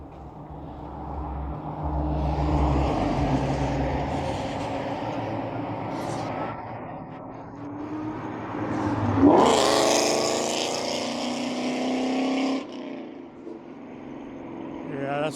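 Road traffic on a city street with several trucks rolling past, heard from a moving bicycle; engine rumble and tire roar swell as a heavy vehicle passes close by, with people talking intermittently over the noise.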